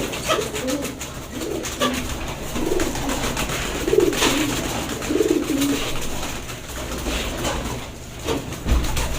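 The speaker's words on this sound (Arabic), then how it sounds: "طيب تعالوا بقى نجيب شويه كلفه كده من بره عشان نبص الحمام بياكل" Pigeons eating a grain mix coo in soft, repeated low calls over a constant background murmur and faint rustling.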